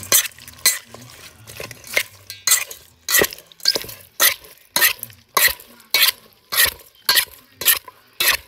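Spicy octopus poke being tossed and mixed with sesame oil in a bowl, a wet, squelching stir repeating in steady strokes about every half second, close and fairly loud, with light clinks of utensil against the bowl and no talking.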